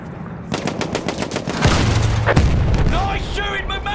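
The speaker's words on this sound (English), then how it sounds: "Nice shooting, McManus." Battlefield 1 gunfire on Xbox One: dense bursts of automatic fire and heavy booms roll continuously, loud and close, with a deep rumble mid-clip and brief radio-like chirps near the end.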